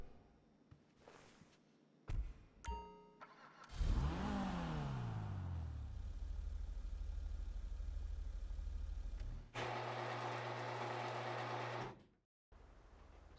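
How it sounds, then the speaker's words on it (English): A Pfister Growler sports car engine in GTA Online revs up sharply, then settles into a loud steady drone, cuts off briefly, and roars again before fading to quiet. "listen to the engine noise of this vehicle."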